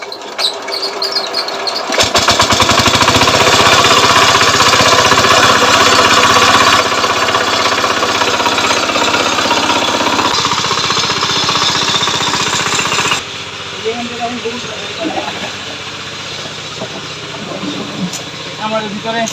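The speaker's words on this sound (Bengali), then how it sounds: "তাই এখন মেশিন স্টার্ট দেবো।" A cattle farm's irrigation machine engine starts and runs with a loud, harsh, rapid chugging drone close by, holding steady before dropping to a slightly lower, rougher running level.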